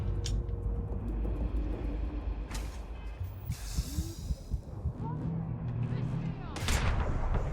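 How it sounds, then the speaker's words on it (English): Heavy explosive-ammo gunfire from the Starfield video game booms repeatedly through a dense, noisy mix of blasts and rumble, with a few sharp bursts standing out. "Oh, he uses explosive ammo too."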